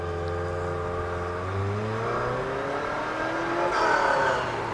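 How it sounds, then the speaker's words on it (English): A loud car revs outside, its engine tones sweeping upward in several rising pulls before surging higher near the end, heard through a room with no talking. "I'm just waiting for that car to shut up"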